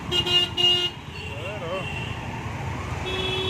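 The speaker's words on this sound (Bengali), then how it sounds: "এত জাম, তার মধ্যে হর্ন মারে।" Short car horn toots sound amid busy jammed traffic at Kamakhya Gate, with a warbling siren rising faintly in the background.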